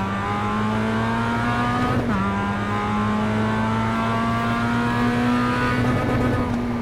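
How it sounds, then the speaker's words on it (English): A racing car engine in the iRacing video game drones at high, steady revs, held against the rev limiter with a brief dip and stutter partway through; no voices. "You never want to hear the rev limiter."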